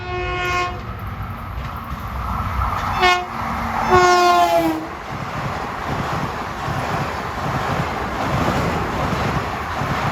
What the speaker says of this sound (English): is train 1060 from Penn Station to Ronkonkoma